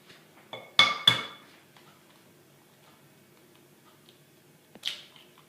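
An egg cracked and dropped into a bowl of creamed butter and sugar: a few sharp clinks and taps against the bowl, close and crisp, then quiet, ending with one more brief knock.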